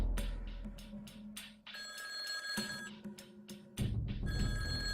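An old-style telephone bell ringing in rapid repeated bursts, bright metallic trills starting and stopping several times, fairly close with some room hum beneath.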